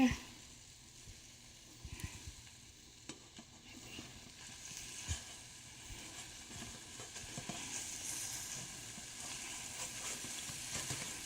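Eggs for an omelette fry in a hot pan with a steady, soft sizzle and occasional scrapes and taps of a utensil, while people talk nearby.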